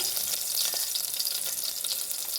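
Finely chopped green chilies frying in about two small spoons of hot oil, a continuous bright crackling sizzle with small spitting pops, steady and close, no voices.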